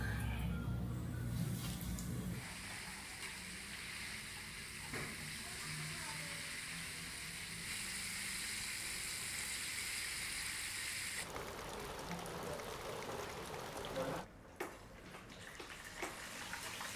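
Crispy chicken feet frying in oil over an unsteady wood fire outdoors in a garden, giving a steady broadband sizzle that runs for most of the clip, louder and more crackling in the early seconds.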